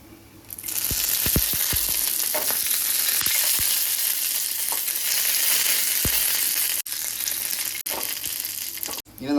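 Red chillies and curry leaves crackle and sizzle loudly in hot oil for a breadfruit curry tempering, a steady close spitting hiss with sharp pops scattered throughout and brief dips near the end.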